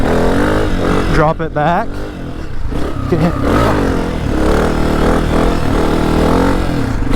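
A 2024 Honda CRF250F trail motorcycle's engine revs and drones steadily while being ridden, with pitch rising and falling through the throttle. It stays loud and close throughout, with a voice speaking briefly over it.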